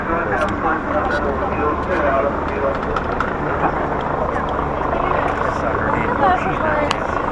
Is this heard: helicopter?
yes